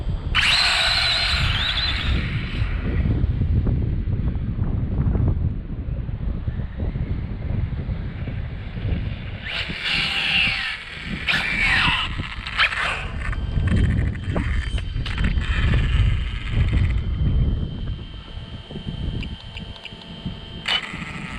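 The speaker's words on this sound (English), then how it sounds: "sorry about the wind, guys. I know y'all can barely hear me," Wind buffets a microphone outdoors at a remote-control drag car session, a constant loud low rumble with gusty surges, faint mechanical whirring noise breaking through midway.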